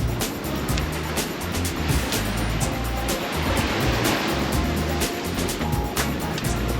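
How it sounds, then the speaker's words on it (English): Swell and wind waves slosh and splash around a small sailboat under reefed sail, a continuous loud watery rush with rhythmic low thumps of the hull and wind hiss. "We got a little bit of swell and wind waves, but it's really nice, actually."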